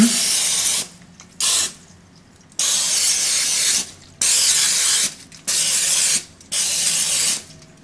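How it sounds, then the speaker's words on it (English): A can of nonstick cooking spray hisses onto a pan in a series of loud bursts, several long sprays separated by short pauses. "you want to make sure to spray it with nonstick cooking spray"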